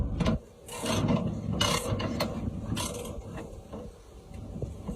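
A hand ratchet tightens stubborn bolts with quick bursts of clicking pawl and metal mechanism, coming in uneven pulses close by.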